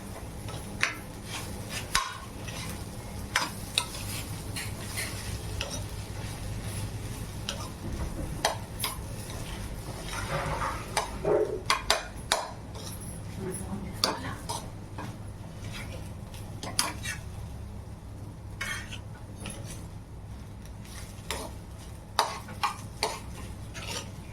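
Steady stirring and scraping of thick dosa batter in a bowl, with irregular clinks and taps from the utensil, close by and continuous.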